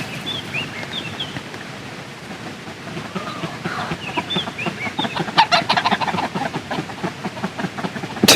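Hens cluck and chatter close by, a steady murmur of clucks that grows busier and louder, with scratching and rustling mixed in.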